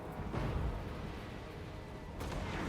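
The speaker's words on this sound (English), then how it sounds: "Not much we can do against that artillery." Artillery fire in the fantasy strategy battle game Warhammer 2: Total War, with deep booming blasts and rumbling impacts over continuous battlefield noise, a heavier thump near the start and another toward the end.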